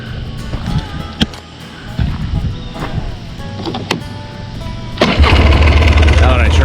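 A Polaris Scrambler ATV engine idles roughly and sluggishly with its fuel shut off, a steady close mechanical rumble that grows louder and fuller in the last couple of seconds.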